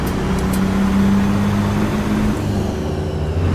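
A 500-horsepower truck engine from American Truck Simulator drones with a steady low hum and a faint tonal whine, continuous and fairly loud, with no talk.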